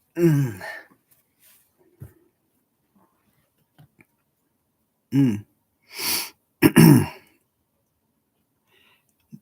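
Several short, harsh coughs in quick succession after a shot of strong liquor, loud and close, with quiet gaps between bursts and a sharp cough-like burst near the start.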